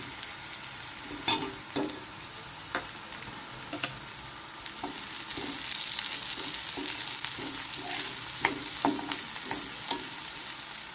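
Curry leaves and chillies crackle and sizzle in hot oil for a raw banana curry, a steady broadband frying hiss with repeated sharp pops and spatters throughout, close and fairly loud, with no talking.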